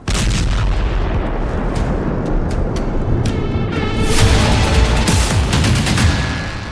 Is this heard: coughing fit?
no